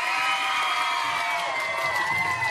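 A crowd at a team game event cheers and whoops for the winners, a dense sustained roar of voices and applause, loud and continuous throughout.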